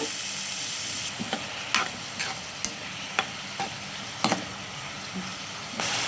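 Green chillies and onions frying in hot oil for a bitter gourd curry, a steady bright hiss with occasional sharp pops and light stirring taps, close and without talk.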